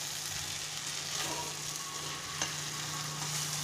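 Green peas being stirred and fried in a pan for a winter snack, a quiet, continuous sizzle with soft scraping of stirring and one small clink near the end, no talking.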